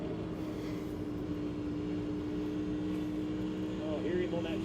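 NASCAR race car at Nashville on the throttle, a steady, loud engine drone that holds evenly throughout with a sustained mid-pitched tone and a slight rise near the end.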